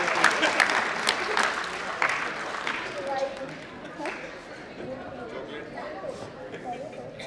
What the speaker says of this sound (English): A big clap for sir.